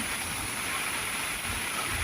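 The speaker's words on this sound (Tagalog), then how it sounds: "Grabe, lakas ang ulan." Heavy rain in Bulacan pours down near a swollen creek, a dense, steady hiss of water filling the whole stretch without a break, loud and close.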